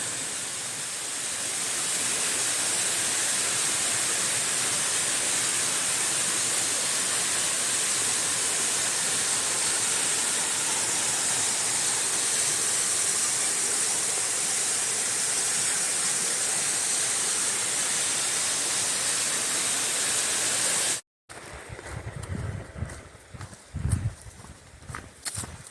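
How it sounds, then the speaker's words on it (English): Broad, even rushing of a creek or river flowing below a mountain trail in the Appalachians in winter, heard from a distance as a constant wash for about twenty seconds before it cuts off, followed by handling noise. "Big old creek or river down there."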